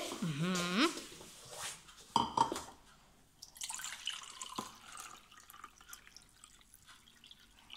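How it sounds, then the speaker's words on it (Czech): Water is poured into a pot in a home kitchen while a dough is mixed with baking powder and olive oil, giving a brief watery splash and trickle near the microphone, with a voice heard briefly at the start. "Teď tam dáme 250 ml vody."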